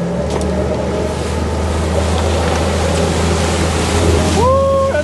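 A motorboat engine drones steadily and loudly over a wash of waves near a big bridge, a constant low rumble with water splashing against the hull throughout.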